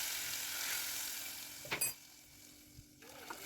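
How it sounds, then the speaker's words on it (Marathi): Cinnamon, bay leaf, curry leaves, asafoetida, seeded dried red chillies and turmeric fry in hot oil for a tempering, giving a faint, steady sizzle with a few brief stirring clinks. "दालचिनीचा तुकडा, तमालपत्र, कढीपत्ता आणि हिंग घालून खमंग फोडणी केलेली आहे"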